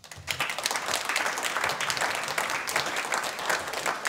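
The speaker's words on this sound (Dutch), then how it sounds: "ik vraag uw applaus voor Erik-Jan Harmens" A studio audience at a Dutch literary late-night show applauds a guest being welcomed, a steady dense wash of clapping held for several seconds with no voices over it.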